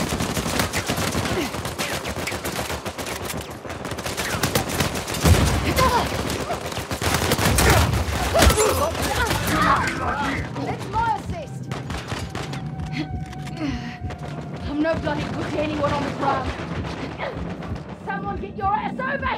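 Main-gun fire and rapid gunshots in an Uncharted 4 multiplayer team deathmatch on the Madagascar map, dense overlapping bursts and booms with game music and voices talking throughout.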